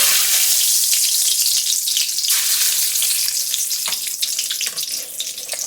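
Black peppercorns and cloves sizzle and crackle loudly in hot oil in a pan, a bright continuous frying hiss with a few brief dips and bursts.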